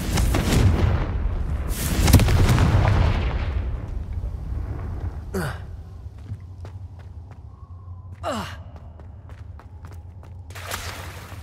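Confringo blasting curse in Hogwarts Legacy, a loud booming explosion that rumbles and fades, followed by quieter footsteps and a few sharp whooshing magical zaps.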